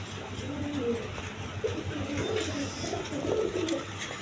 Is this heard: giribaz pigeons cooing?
yes